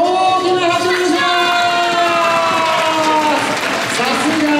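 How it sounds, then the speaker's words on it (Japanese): Applause at a Kumamon birthday festival stage show after a tablecloth-pulling challenge, steady crowd clapping throughout with sustained tonal music or voices layered over it. "今一度ここに大きな拍手をします"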